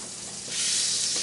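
Margarine melting in a frying pan before onions, bell peppers and jalapenos go in: a soft hiss that swells abruptly into a bright, steady sizzle, close and alone.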